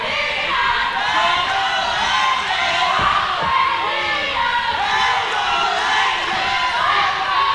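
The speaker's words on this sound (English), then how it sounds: "Crowd's fired up for this one." A wrestling crowd roars steadily before the bell of a championship match, with loud overlapping shouts and cheers and a few thuds near the middle.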